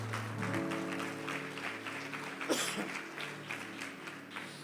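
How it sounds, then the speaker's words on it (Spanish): A church congregation claps for Jesus during a sermon, quiet scattered applause mixed with sustained musical tones behind it. "Dale un fuerte aplauso al Señor Jesús"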